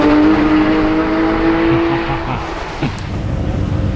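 A GT race car drives hard at the Nürburgring, its engine note loud and steady at first, then easing off as it moves away, leaving a rough, fading roar with no talk.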